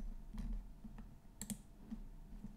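A few soft computer mouse clicks, quiet and sparse, spaced unevenly over a low background hum.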